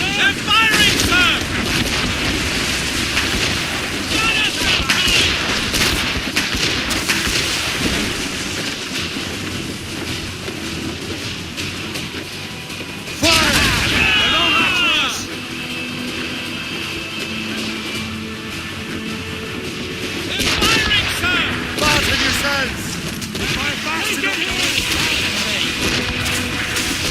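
Naval battle in the game Assassin's Creed Rogue, with loud booming cannon fire and crashing impacts in bursts over a constant rumbling din of battle, with shouting voices among the chaos.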